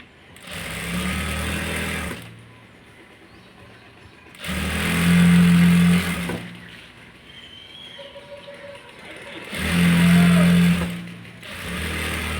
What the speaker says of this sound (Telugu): చక్కగా మనం పాదానికి ఇలా అందజేసుకుంటూ చక్కగా స్టిచ్చింగ్ చేసేయాలి